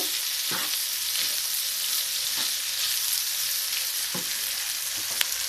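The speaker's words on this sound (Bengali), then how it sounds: "দিয়ে দিচ্ছি সবগুলি সবজি এবার ভালো মতো উল্টিয়ে পাঠিয়ে নেব" Vegetables and noodles sizzle steadily in a hot pan for a spicy vegetable noodle dish, with occasional clatters of stirring and tossing over the constant frying hiss.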